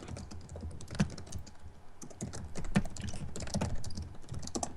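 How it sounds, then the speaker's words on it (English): Quiet typing on a computer keyboard, with irregular clicking keystrokes and a few sharper taps, faint and steady throughout, no voices. "And I hear some typing."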